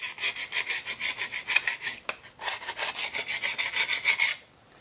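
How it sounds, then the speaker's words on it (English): Gasket scraper rasping old gasket material off a 1993 Ford Ranger 4x4 engine part, close up: steady repeated back-and-forth scraping strokes with a brief pause, then it stops near the end. "I use this gasket scraper tool. Looks like that. Go around and scrape off all the big stuff."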